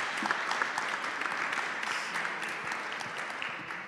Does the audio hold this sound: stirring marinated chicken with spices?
no